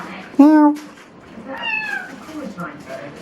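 A cat meows twice at close range, a loud short call followed by a longer, rising and falling one, with quiet indoor background and faint sounds between.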